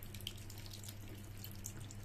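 Water pours steadily into a cooking pot holding raw mangoes, a faint continuous trickling stream heard close by with no talking.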